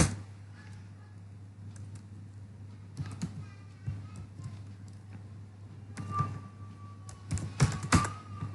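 Someone types on a computer keyboard in MS-DOS, with scattered clicks and short bursts of keystrokes over a steady low hum, ending in a denser flurry of taps.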